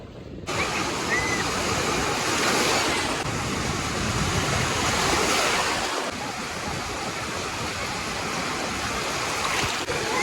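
Sea waves on Digha beach make a loud, continuous broadband wash that swells and eases gently over about ten seconds and drowns out other sound.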